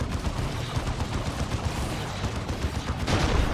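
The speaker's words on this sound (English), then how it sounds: "Artillery does a lot of work there." Artillery barrage from a 3v3 Dawn of War 2 match, a dense, continuous rumble of overlapping blasts and crackling impacts that stays steady and fairly loud throughout.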